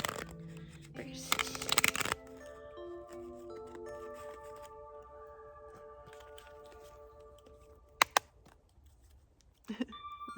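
Oracle cards from a wildwood deck being shuffled for a reading outdoors among redwoods: a burst of crisp riffling near the start, then a long quiet sustained tone with brief clicks later.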